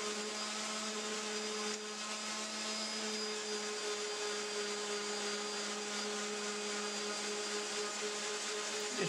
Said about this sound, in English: So I now use a hand sander, an oscillating sander, and I'm going to use an 80 grit and then a 220.